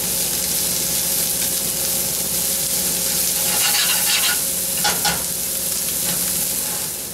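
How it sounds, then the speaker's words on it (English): Onions sizzling loudly in a pan for risotto, a constant close frying hiss with brief scraping stirs partway through. "Just a quick mix to coat our onions evenly."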